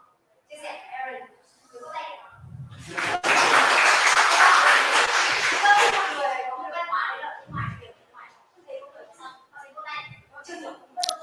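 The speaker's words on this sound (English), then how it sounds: "everybody will give applause when a person finished sharing something" An audience at a technology festival conference in Vietnam breaks into a burst of applause lasting a few seconds after a talk, with people speaking before and after the clapping.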